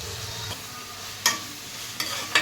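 Onions and tomatoes sautéing in a pan, a soft steady sizzle broken by a few brief scrapes of a stirring spoon.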